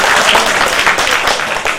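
Audience applause fills a movie audio launch event for Adanga Pasanga, a steady, dense wash of clapping held at constant loudness throughout, with no voice on top.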